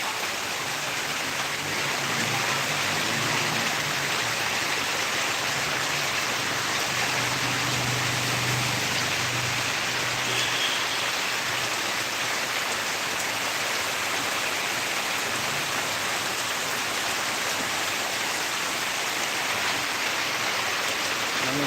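Torrential downpour in Rangpur, a steady dense hiss of heavy rain that holds at an even level throughout, with a faint low rumble briefly underneath.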